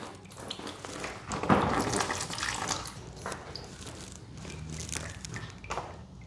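Coolant draining from a KTM Super Duke R motorcycle, a continuous splashing, gurgling pour of liquid, fairly close and steady for several seconds.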